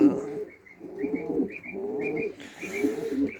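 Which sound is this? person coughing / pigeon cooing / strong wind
pigeon cooing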